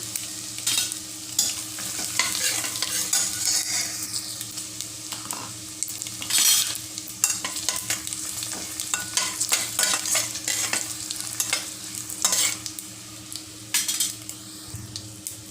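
Steady sizzling of cashews frying in a pan, with a spoon stirring and scraping against the metal in irregular bursts.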